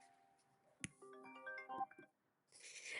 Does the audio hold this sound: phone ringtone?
yes